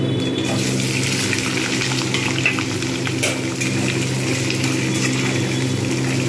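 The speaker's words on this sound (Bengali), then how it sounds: "এবার আমি এতেই আলুটা ভেজে নেব।" Potatoes fry in hot oil with whole cumin and dried red chillies, a steady dense sizzle and crackle that carries on unbroken at close range, with no one speaking.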